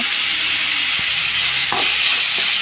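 Onion sautés in a pan with salt and turmeric powder for a bottle gourd curry, giving a loud, steady hissing sizzle with a few soft knocks from the stirring spoon.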